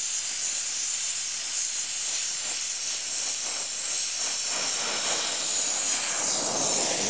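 A gas torch welding tubing clamps gives a steady, loud broadband hiss and roar with no break, and a faint crackle of the weld runs beneath it. No one speaks.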